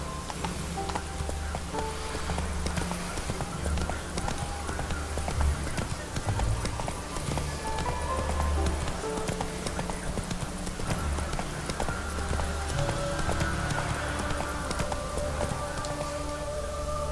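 Horse hooves gallop in a fast, continuous clip-clop rhythm in a video game, loud and steady throughout, with a low game soundscape beneath.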